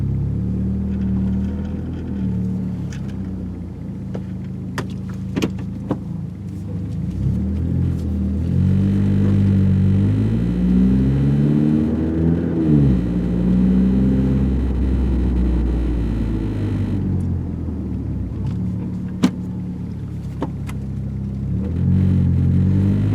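2009 Lancer Ralliart with a DC Sports single exit exhaust cruising around a neighborhood, heard from inside with windows up: a low steady engine rumble that swells as it revs up mid-drive, with faint occasional door rattles.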